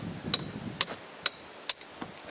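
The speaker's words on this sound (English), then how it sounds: "The best way to do it so far that I've learned is to use the side of your hammer." The side of a hammer strikes off small concrete knobs from a poured foundation: four sharp metallic clinks spaced about half a second apart, then a fainter fifth tap, close and crisp over quiet background.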